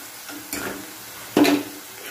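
A spoon stirs turmeric into a frying potato and spice mixture in a pan, giving two short scraping strokes close by over a faint sizzle.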